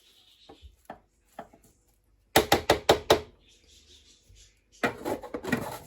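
Jerk seasoning scraped down the inside of a bowl while seasoning a whole chicken for oven roasting: a few soft strokes, then a quick run of sharp, knocking scrapes, then another burst.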